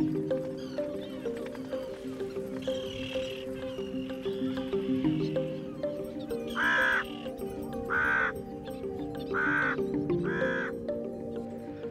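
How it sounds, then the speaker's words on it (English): Crows caw in bursts of four or so harsh calls above a river sandbank with nesting birds, over a steady background of other bird calls and distant animal sounds. "The presence of these crows is not accidental."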